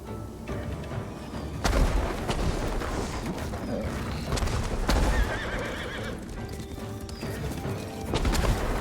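Horses neigh and gallop in the Ghost of Tsushima video game, a pounding run of hoofbeats under whinnies and loud battle crashes, heavy and continuous throughout.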